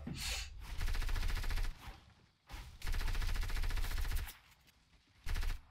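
Bursts of rapid automatic gunfire in the Fortnite battle royale video game during a build battle, three loud sustained volleys separated by short pauses, heard alone with no talking.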